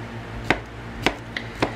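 Knife slicing pre-sliced pineapple into chunks on a cutting board, four sharp chops at roughly half-second intervals, close and clear over quiet background hum.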